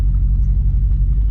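Supercharged Ford GT500 S550 engine idling at a dragstrip, a steady, loud low rumble with a pulsing idle throb and no talk.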